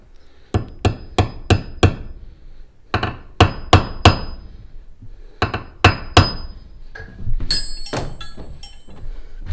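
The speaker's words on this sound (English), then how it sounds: "I'm going to have to tap it in to the hole." A Wera Hex-plus bit is driven into a screw hole with sharp, close hammer taps that come in quick bursts of four or five, each burst separated by a short pause, with no voices.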